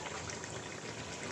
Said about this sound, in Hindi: अब मैं डालूँगी इसके अंदर पानी।